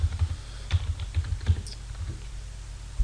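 Computer keyboard typing while entering commands into Stata statistical software: a quick, irregular run of soft key clicks near the microphone, alone without any voices.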